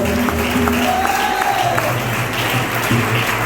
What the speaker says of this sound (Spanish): Den un aplauso fuerte al Señor porque Él es todopoderoso